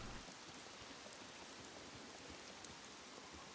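Heavy rain pours steadily in the SCUM survival game, a dense, even wash of hiss with no breaks, loud and close throughout.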